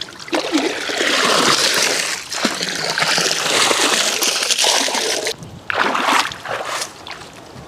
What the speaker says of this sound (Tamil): ஃபர்ஸ்ட் நம்ம இந்த டயரை நல்லா வாஷ் பண்ணி க்ளீன் பண்ணிக்கலாம்